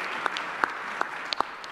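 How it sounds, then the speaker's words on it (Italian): Sparse clapping at an event at the BIT in Milan for Roberto Mancini, a few distinct, spaced hand claps heard up close over a low room hum. "adesso l'applauso io lo voglio per il nostro testimonial, Roberto Mancini"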